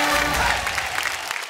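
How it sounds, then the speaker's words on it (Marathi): A studio audience on a Marathi TV game show bursts into brief applause for the winning contestant, a dense patter of clapping that fades within a second and a half. "जोरदार टाळ्या"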